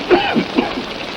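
Rain falls steadily in a dramatized Western scene, a soft continuous hiss with a few heavier spattering bursts near the start, no voices.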